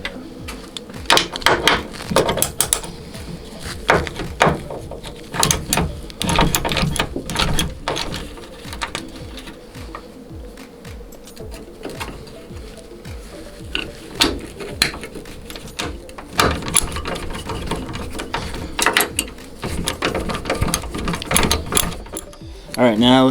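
Hand tools work screws loose on a Jeep JKU hood bracket during a bolt-in hood lift install, giving clicking, ratcheting bursts that start and stop irregularly throughout, with a person talking at times.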